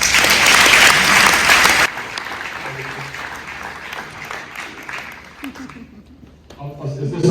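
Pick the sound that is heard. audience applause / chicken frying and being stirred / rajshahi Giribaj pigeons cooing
audience applause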